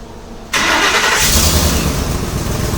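After a brief quiet, a Ford Super Duty truck engine with an exhaust leak is remote-started, cranking and catching abruptly, then settling into a loud, steady rumbling idle nearby.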